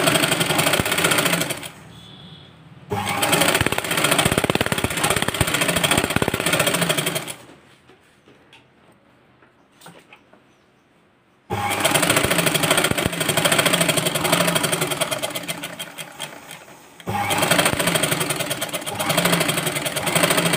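Sewing machine stitching a blouse, running in loud rapid mechanical bursts that stop and restart several times, with a longer quiet pause in the middle.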